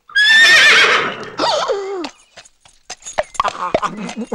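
A horse gives a loud, drawn-out neigh right at the start, followed by a shorter whinny. Scattered hoof clops and knocks come after, in a comedy film scene.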